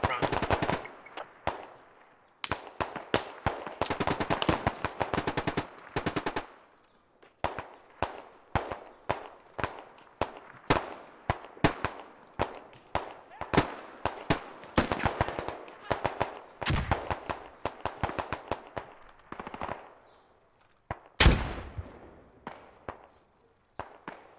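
Gunfire in the military shooter Squad comes as loud bursts of rapid automatic fire and single shots, repeating in clusters with short gaps, up close and alone.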